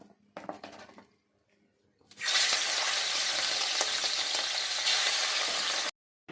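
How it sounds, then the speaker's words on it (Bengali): Prawns hit hot oil and a loud, steady sizzle follows, crackling continuously for several seconds after a few quiet clinks. "এইবার আমি মাছটা ভাজবো"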